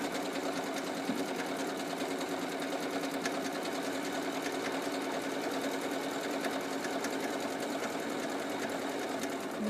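A sewing machine zigzag stitches on and off a fabric edge while sewing a shorts inside seam, running as a fast, continuous mechanical whir with a rapid needle clatter, close and steady throughout.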